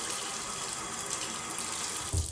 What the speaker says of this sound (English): when I put it in running water, I'm only trying to get the bristles